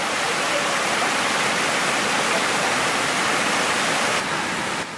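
Outdoor stream water flowing during heavy rain, a loud, dense, unbroken rush close by that stays level throughout, with no voices.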